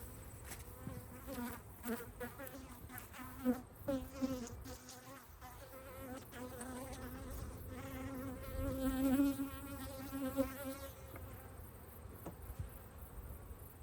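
Honey bees buzzing around an open backyard beehive during an inspection, a dense, close, fluctuating drone of many wings with individual bees swelling louder as they pass near, over quiet outdoor background.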